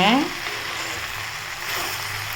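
Okra sautéing in a pan for a lunchbox poriyal, a continuous hissing sizzle with a brief tonal clink at the very start, steady and close.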